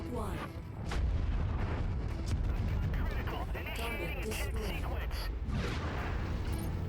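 Weapon fire and heavy rumbling in the MechWarrior 5 video game, with booming blasts and crackling energy discharges layered over continuous battle noise, while players talk over it.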